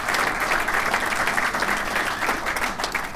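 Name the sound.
audience applause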